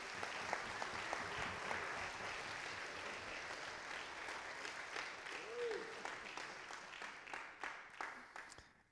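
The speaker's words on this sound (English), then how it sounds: "Give them a round of applause." Audience applause at an outdoor Fourth of July brass band concert: steady, dense clapping from a crowd that holds for several seconds and slowly thins out toward the end, heard from within the audience.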